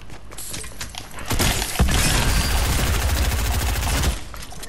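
Gunfire from a pump shotgun in a video game, a loud burst of rapid, closely spaced shots lasting a few seconds over a noisy game background.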